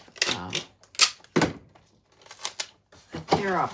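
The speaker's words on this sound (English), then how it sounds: "These shoe boxes you have to tape." Packing tape is pulled and pressed onto a shoebox being sealed for shipping, heard as a close series of short rips, squeaks and taps in uneven bursts, with no talking.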